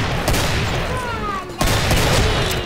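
Shotgun blasts in the zombie shooter Left 4 Dead 2, a dense burst of game gunfire with a sharp loud shot near the middle, over constant battle noise and faint voices.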